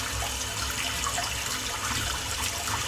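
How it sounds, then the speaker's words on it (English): Badger-hair shaving brush rinsed under a running tap, producing a steady, moderately loud hiss and splash of water that continues evenly throughout without any talking. "I'm just going to rinse this amazing brush out"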